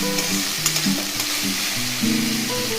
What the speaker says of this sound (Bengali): পেঁয়াজটা কিছুক্ষণ জোরে আঁচ দিয়ে নেড়ে নিচ্ছি।